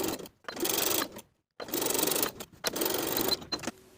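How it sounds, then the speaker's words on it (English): A sewing machine stitches closed the gap in an elastic waistband casing along the original seam line, running in three bursts of rapid whirring separated by brief pauses, fairly close and alone. "sew closed the gap in your stitches along the original stitching line"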